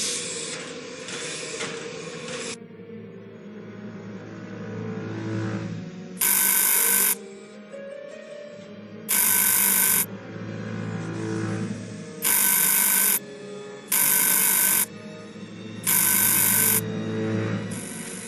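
Telephone bell rings in repeated loud bursts, about a second each with short gaps, over a low ambient music bed inside the Murder on the Orient Express video game.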